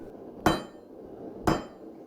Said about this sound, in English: If you want to move a lot of hot metal quickly, you can always use a bigger hammer.